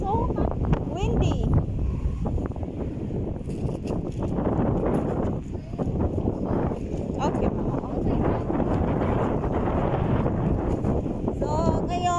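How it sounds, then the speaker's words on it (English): Strong wind at Kuwait Tower buffets the microphone in a steady rumbling roar, with a person talking briefly over it. "It's so windy."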